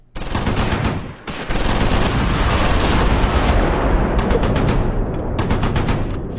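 Loud, sustained gunfire and machine-gun bursts in Close Combat IV, a Battle of the Bulge winter battle, rattle nearly nonstop with one short lull, dense rapid volleys throughout.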